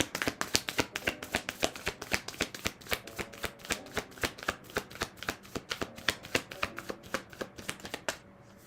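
Oracle cards are shuffled nonstop in a quick, even rhythm of crisp slaps and riffles, close up, with no talking.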